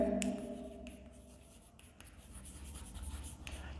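Pen writing on paper during an English lesson at a high school, a faint continuous scratching with small stroke bursts, quiet and close, no talk.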